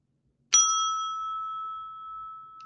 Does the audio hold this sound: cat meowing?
no